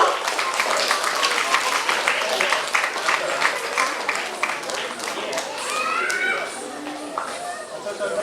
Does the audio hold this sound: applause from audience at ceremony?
yes